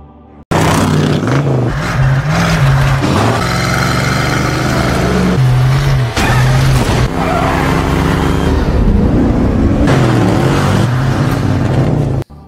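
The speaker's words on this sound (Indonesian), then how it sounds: "jadi Brian segera menginjak gas lagi" A car engine roars and revs hard during a chase scene, with the pitch climbing through repeated gear shifts in a loud, continuous run, mixed with dramatic film sound.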